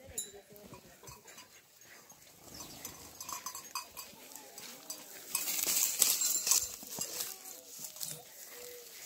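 A young goat shifting about and bleating in a farm pen, rustling and soft bleats mixed with scuffling, some louder activity midway, with quiet voices in the background.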